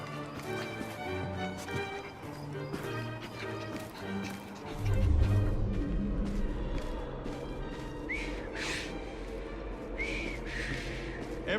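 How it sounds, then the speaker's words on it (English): A character in the video game Assassin's Creed Syndicate whistles a few short rising notes over a busy Victorian London street scene, with horse hooves clip-clopping, carriage rumble, and distant voices in the mix. "I've just learned to whistle."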